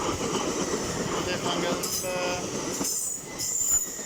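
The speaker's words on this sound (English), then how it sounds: "Passing now is Hull's train, well, East Coast trains." An East Coast class 802 passenger train rushes past close by at Durham, its steady rumble and rattle layered with metallic wheel squeal and clinks.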